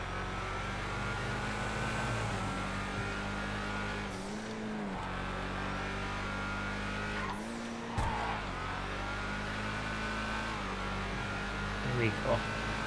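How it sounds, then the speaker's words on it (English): An LMP3 race car in the GTA FiveM game drones at high revs, a steady engine hum broken by a couple of brief gear-change dips and tyre squeal, while a voice talks over it. "Is this the LMP3 car?"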